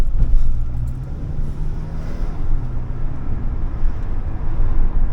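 A Toyota RAV4's engine hums steadily while driving, a loud, continuous low drone with road rumble and no voices.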